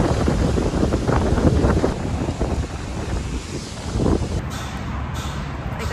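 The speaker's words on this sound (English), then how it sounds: "And you can tell by the wind, it's super windy" Gusty wind roars across a microphone outdoors aboard a Beneteau sailboat, loud broadband buffeting that rises and falls for the whole stretch, easing slightly near the end.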